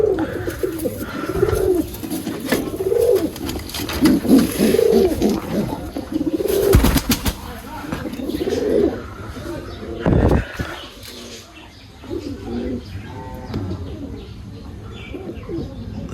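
A male Lakha pigeon coos in a series of low, throaty, rolling calls close by, with brief chirps and some handling rustle and bumps between the phrases.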